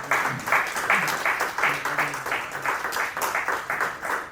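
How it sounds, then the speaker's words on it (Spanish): A church congregation claps together in a steady, rhythmic beat, loud and unified, each clap landing in time with the next across the whole span. "Denle un fuerte aplauso a nuestro Dios, hermano"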